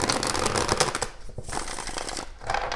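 A deck of tarot cards is shuffled close up, giving dense riffling and flicking bursts with short gaps between them, fairly quiet and with no talk.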